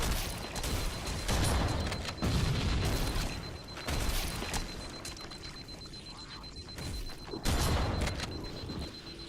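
Enemies dying in wet, squishy explosions in a Halo video game; several sharp bursts strike at intervals, each followed by a crackling decay, with quieter rumbling between them.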